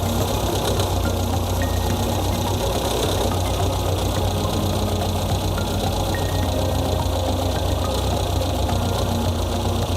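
Close, steady engine idle with a fast rhythmic knocking beat while the carburetor is adjusted to bring the rpm down, continuous and loud throughout with no talk.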